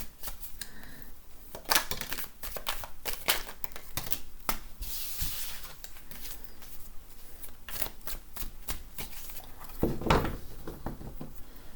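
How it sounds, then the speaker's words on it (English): Cards riffle and snap in quick bursts of crisp, papery flicks, close up with short pauses between shuffles and no talking. "One more shuffle here."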